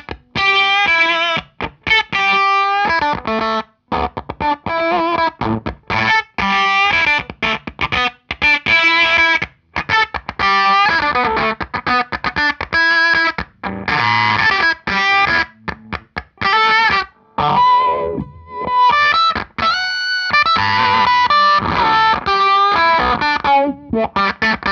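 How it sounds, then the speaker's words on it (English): Electric guitar through a fuzz pedal with a Walrus Audio filter pedal kicked on, its controls swept while playing; a dense, continuous run of distorted notes and chords, loud and close, with shifting filtered tone and no talking. "we'll keep playing the fuzz, and I'll kick the filter on, and I'll manipulate some controls there"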